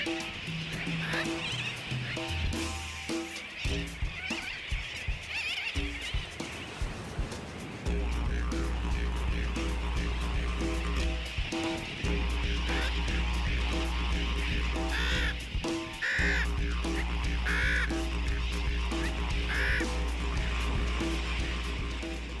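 A breeding seabird colony on Michaelmas Reef's sand cay in the Great Barrier Reef, with many birds cawing and calling at once, some close and loud, over a constant background chorus.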